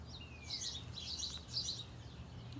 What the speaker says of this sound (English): the little bird, he's too loud